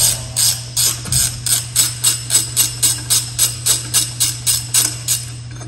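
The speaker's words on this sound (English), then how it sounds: "I take one of the bolts and I loosen them up, and I keep it in there, and I take the other bolt off." Ratchet wrench loosening a bolt on the access plate of a JCB mini excavator, producing a steady series of about fifteen crisp, evenly spaced clicking strokes up close over a low machine hum.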